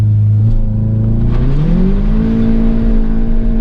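A tuned Stage 2 Audi S3 at an autocross event launches hard off the line, its engine droning loud and steady as the revs climb in a rising pitch, with no talk over it.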